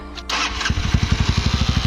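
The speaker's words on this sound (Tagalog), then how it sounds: "Papandarin natin yung motor natin." A Motorstar Xplorer 250 motorcycle engine with a dry clutch starts with a brief starter whine, then catches and runs in a fast, throbbing rhythm, loud and close.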